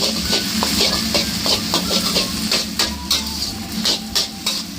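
Wide rice noodles stir-fried with marinated pork for pad see ew, a steady sizzle broken by rhythmic scraping and clanking of a spatula against the wok, loud and close with no talking.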